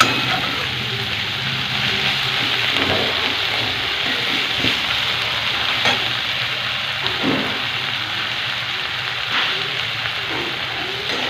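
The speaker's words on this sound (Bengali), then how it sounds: "এই রসুন পেঁয়াজ ভাজা হচ্ছে।" Garlic and onion fry in a pan for a chicken and potato dish, a dense, even crackling hiss that runs steadily throughout with faint stirring scrapes.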